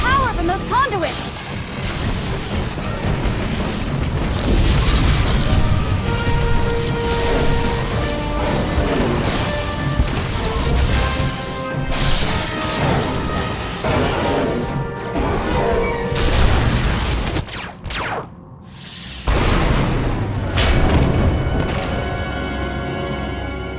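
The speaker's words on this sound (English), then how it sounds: "We heard explosions, the tunnel collapsed." Heavy explosions and crashing debris as a tunnel collapses in the game Star Wars: The Old Republic, loud booming impacts layered with rumble and game noise, with voices talking over parts of it.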